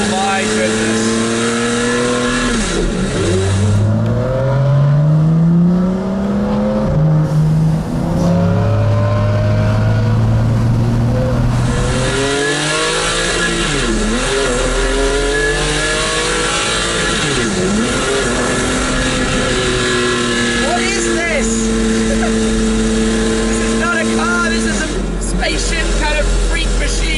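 A Maserati MC12 sports car revs hard as it drives along scenic roads. The loud engine climbs through gears with rising and falling pitch sweeps and a steady drone throughout.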